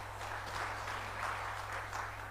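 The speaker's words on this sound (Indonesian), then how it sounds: "Tepuk tangan bentar kita." Church congregation clapping briefly during an Indonesian sermon, a soft wash of many hands heard at a distance over a steady low electrical hum.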